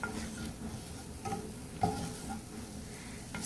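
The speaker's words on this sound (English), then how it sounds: "fry these up in the oil" Chicken pieces fry in oil for General Tso's chicken, giving a soft, continuous sizzle with a few faint clicks and stirring knocks in a quiet kitchen, with no voices.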